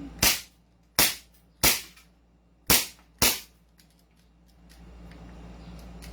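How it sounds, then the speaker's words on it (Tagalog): A 2011 Hi-Capa Silver Edition airsoft pistol fires five sharp, loud, close cracks at uneven intervals over about three seconds, followed by faint background rumble. "Firing 2011 High Kappa Silver Edition."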